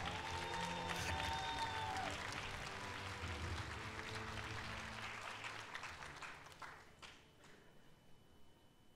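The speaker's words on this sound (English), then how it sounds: "please give her a big round of applause" Applause at a company promotion ceremony in Atlanta as an award winner is honored, sustained crowd clapping with a brief whistle near the start, gradually thinning out toward the end.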